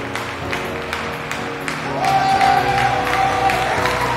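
An audience applauds the referees at the Teqball World Cup with steady clapping and cheering, which swells louder halfway through. A sustained whistle-like tone rides over the crowd.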